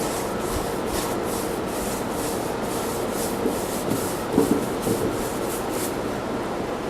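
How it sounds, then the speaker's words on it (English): A cloth rubs excess stain off an old-style wooden carpenter's toolbox, giving a steady close scrubbing hiss in repeated strokes, with a few soft knocks partway through and no talking. "and then I'll wipe the excess off"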